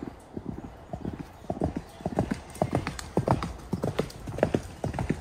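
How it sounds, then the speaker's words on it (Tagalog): A horse walks close behind the speaker on a mushroom-foraging outing, its hooves making a steady, fairly near clip-clop while soft background noise continues throughout. "Gandahan po kapag may kabayo sa likod ko."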